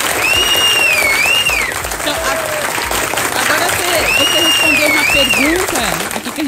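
Studio audience applauding for a funk singer on a funk interview show, a loud continuous wash of clapping heard under talk, with a swooping whistle-like tone and other sounds layered on top.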